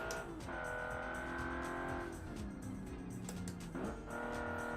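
Simulated car in BeamNG on a Pikes Peak hill-climb course, engine droning steadily loud with tire squeal as it brakes while turning, pitch shifting partway through, no talk.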